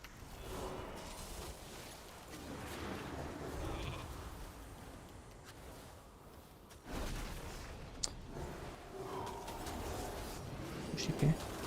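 Sheep bleats from a mage's polymorph spell in World of Warcraft arena PvP, brief and mid-level, surfacing a few times over steady game noise while someone talks throughout.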